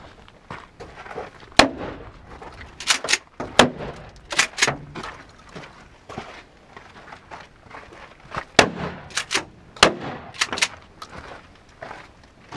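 A Mossberg 590A1 AOW shotgun fires at targets outdoors, sharp loud blasts in irregular bursts, some in quick pairs and others spaced apart, with quiet gaps between.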